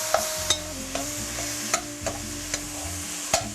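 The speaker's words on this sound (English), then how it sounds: "So I'm mixing up the meats, including the pancetta" Browned meats and pancetta stirred in a pan, a soft sizzle punctuated by about eight sharp scrapes and clinks of the spoon against the pan at irregular intervals, no speech.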